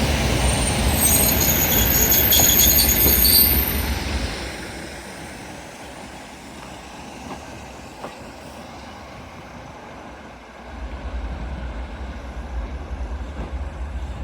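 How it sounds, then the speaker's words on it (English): A Northern Trains class 156 diesel unit arriving on a terminating service at Carlisle station on the West Coast Main Line, a loud rumble and hiss that fades to a quieter steady drone before swelling again. "Arriving in now is a terminating Northern Trains 156, 156, 468, I think that is."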